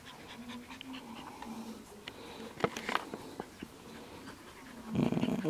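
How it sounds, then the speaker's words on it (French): Shiba Inu puppies, about five weeks old, pant and sniff close by, with soft growls and small squeals, ending in a short louder scuffle. "Il y a des bébés. Oh, oh, oh, oh, les petites dents, les petites oreilles, des petits chiens."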